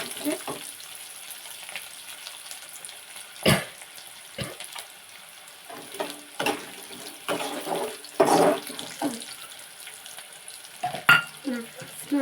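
Garlic frying in a pan, with irregular bursts of sizzle and spoon scraping that rise and fall close up, with no talk.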